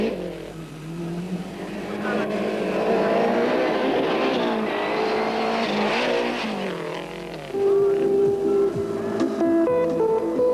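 Lancia rally cars racing at the San Remo rally in 1989, engines revving and accelerating loudly nearby, one car passing with a rising roar that dips and then surges again.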